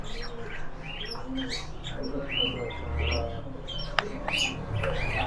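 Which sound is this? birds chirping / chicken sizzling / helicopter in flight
birds chirping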